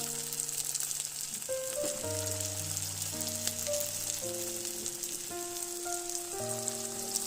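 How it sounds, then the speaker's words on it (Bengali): Bengali street-food snacks frying in a shallow layer of hot oil over medium heat give a steady close sizzle and crackle, with melodic background music playing throughout. "তেলটাকে আমি মিডিয়াম আঁচে রেখে ভেজে নেব"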